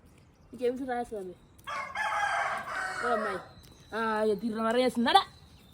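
A rooster crows twice in a village, each call a rising and falling cock-a-doodle-doo, fairly close and clear, with a stretch of people talking between the two crows.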